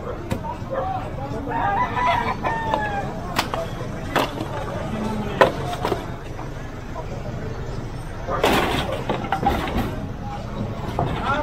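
Chickens cluck and a rooster crows from a coop beside a sidewalk during a street-clearing demolition, the birdcalls moderately close amid a busy outdoor din with sharp chopping and banging knocks and voices talking in the background.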